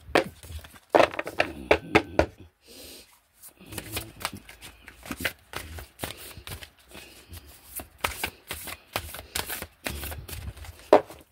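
Tarot cards being shuffled by hand, a steady run of crisp riffling slaps and soft flicks with brief pauses, close and moderately loud.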